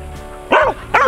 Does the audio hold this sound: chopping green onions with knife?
no